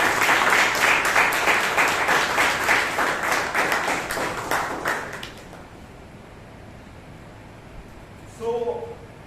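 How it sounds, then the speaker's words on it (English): Audience at a Bangalore Toastmasters meeting bursting into a hearty round of applause, dense clapping that fades out after about five seconds, leaving quiet room tone and a brief murmur at the end. "please give Brian a huge round of applause"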